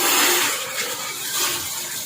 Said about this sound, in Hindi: डालेंगे हम पानी।